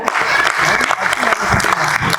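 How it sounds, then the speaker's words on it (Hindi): An audience at a Hindi poetry gathering claps steadily, a dense burst of applause with a voice heard faintly underneath. "आप एक बार उनके सम्मान में तालियां बजाएं।"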